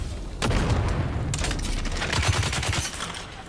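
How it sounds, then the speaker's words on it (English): Grenade explosions and gunfire in Dune: Awakening, a dense, loud barrage of blasts and rapid shots that starts abruptly and rolls on almost continuously. "Play with some grenades."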